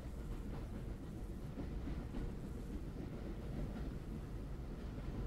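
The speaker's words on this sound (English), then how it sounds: "This is a train simulator." A simulated train in the Rec Room train simulator game rumbles steadily with low, continuous rolling noise and faint rhythmic clatter, moderately quiet and uninterrupted.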